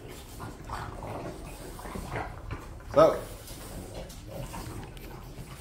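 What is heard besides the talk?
French bulldogs snorting while eating bully bites treats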